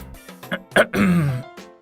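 A single deliberate throat clearing, a few short rough bursts followed by a longer voiced "ahem," close and clear with no other sounds.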